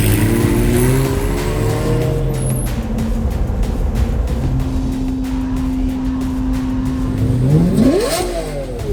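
A Bugatti Chiron supercar drives past during Monterey Car Week, its engine droning loudly and close, then revving sharply upward near the end as it accelerates away.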